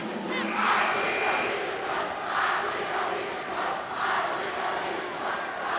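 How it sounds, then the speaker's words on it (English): Fans cheering at a high school boys basketball game in a gym, with a loud continuous crowd roar that swells and recedes in waves. "The West fans making the trip over here to Olathe South, trying to cheer their team on to the victory here as we wind it down"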